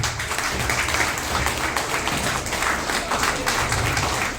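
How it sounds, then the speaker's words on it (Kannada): An audience applauds students who won a state-level chess competition in Karwar, a dense, steady wash of clapping that holds at an even loudness for the whole stretch with no voices above it. "ಈ ವಿದ್ಯಾರ್ಥಿಗಳಿಗೆ ನಿಜವಾಗ್ಲೂ ಜೋರಾಗಿ ಚಪ್ಪಾಳೆ ತಟ್ಟಬೇಕು"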